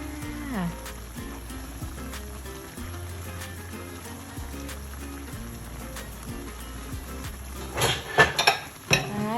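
Bowls, dishes and basins clink and knock while being handled in a kitchen during boat noodle soup preparation, scattered light clatters over a steady background, growing louder and busier near the end.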